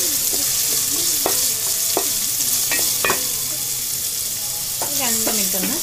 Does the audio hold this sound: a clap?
no